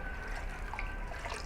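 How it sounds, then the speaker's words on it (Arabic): Cold water poured from glasses into a strawberry jelly mixture, a steady soft trickle running evenly for about a second and a half with no talking. "معانا هنا كوبايتين ميه ساقعه، هتبداي تنزلي كده"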